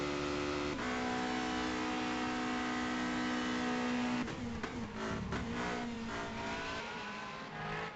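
A Formula 3000 race car in a management racing game, Buenos Aires circuit, on a fast lap: a loud, sustained engine whine holding steady on the straight, then dropping and rising through downshifts and revs as it brakes and corners.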